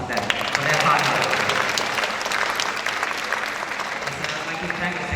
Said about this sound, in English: Please give a round of applause to them for their hard work.